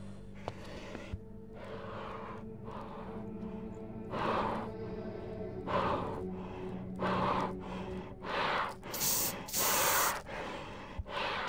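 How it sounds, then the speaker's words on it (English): Heavy, ragged breathing from an unseen creature in the subway horror game Anomaly Exit, a series of loud gasping inhales and exhales repeating in uneven bursts. "something's breathing hard over there"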